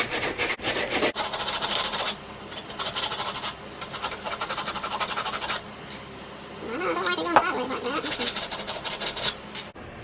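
Rough sandpaper scrubs a wooden candleholder to distress it, making a close, steady scratchy rasp in long back-and-forth strokes broken by short pauses.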